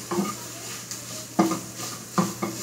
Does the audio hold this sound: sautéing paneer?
yes